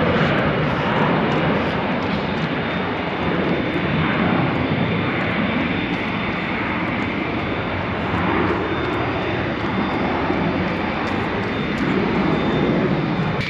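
A big Delta passenger jet takes off from a local airport, a loud, steady broadband engine roar that holds throughout, heard outdoors with no talking over it.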